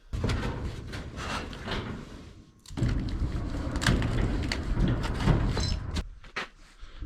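An overhead garage door rattles and rumbles as it is pushed open, a loud close sliding roll with clanks, pausing briefly before continuing in a longer noisy run.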